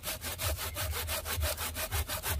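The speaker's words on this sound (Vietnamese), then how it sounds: "cái cưa cái lưỡi bằng thép này mình cắt nha mọi người" A steel-bladed hand saw cuts through a fig tree trunk in fast, regular back-and-forth strokes, close and loud, roughly four strokes per second with no voices.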